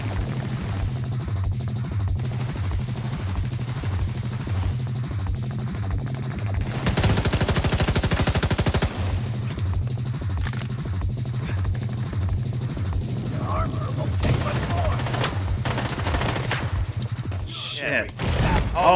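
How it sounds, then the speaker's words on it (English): Gunfire from The Division 2 video game during a co-op stronghold fight on Roosevelt Island: rapid, sustained automatic bursts repeat steadily and loud for most of the stretch, with a voice talking over them. "I'm being shot by somebody I can't even see"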